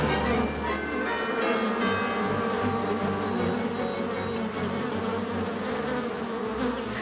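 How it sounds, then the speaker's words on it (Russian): Loud, continuous buzzing of a swarm of bees fills the whole stretch, steady and close, with faint rhythmic ticking on top. "я увел пчел подальше"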